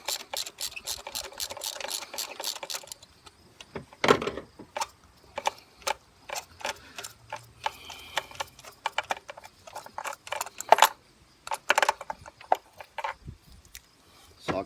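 Socket wrench loosening a spark plug on a Jeep Compass 2.4L engine, a run of close ratcheting clicks and metallic taps in irregular bursts, with brief low murmurs between.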